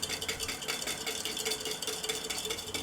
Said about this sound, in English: Adding 3/4 of a cup sugar and going to whisk until sugar